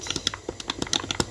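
Rapid keystrokes clatter on a computer keyboard in a quick, uneven run of close, crisp clicks, heard alone without talk.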